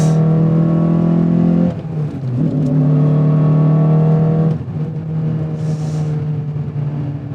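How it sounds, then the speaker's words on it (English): A 2002 Honda Accord Euro R engine revs up loudly in two strong pulls below VTEC, its droning tone rising steadily, with a short dip between them as the gear shifts. "Just listen to the Honda noises."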